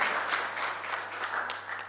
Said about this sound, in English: A round of applause for these guys, please